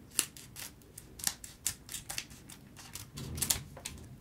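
A Pokémon Paldea Evolved booster pack being torn open, giving a close, quiet series of crisp crinkling rips and snips in an uneven rhythm.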